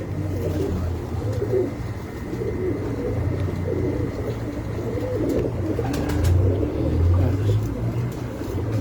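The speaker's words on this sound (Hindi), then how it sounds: "ये भी बहुत मशहूर कबूतर है मेरे पास" Several pigeons coo on a rooftop in low, rolling calls that come in waves, close by, with a faint steady background hum.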